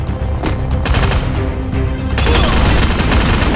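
P90 gunfire in a shooter video game rattles in loud, dense rapid bursts that run almost without pause and grow heavier toward the end, with no voices over them.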